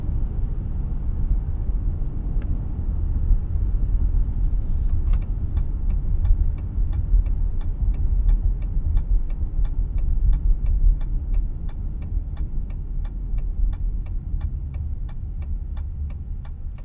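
A 2023 Dodge Challenger SXT with the 3.6-liter V6 and 8-speed automatic cruises down the road, a steady low engine and road drone filling the cabin alongside a faint, regular ticking like a turn signal.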